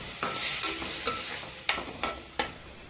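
Mint rice being stirred and fried in a pan, with a steady soft sizzle broken by about six sharp scraping strokes of a spoon against the pan, close and clear, with no talking.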